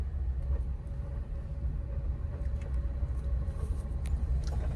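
A car creeps along in first gear with no accelerator pressed. A low, steady engine and road rumble runs evenly throughout, with faint tyre and cabin noise and no revving.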